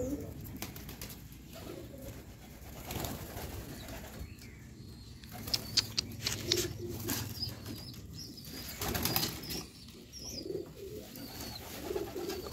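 Domestic pigeons coo in low, repeated throaty calls while wings flap in brief bursts nearby, with scattered faint chirps and rustling around them.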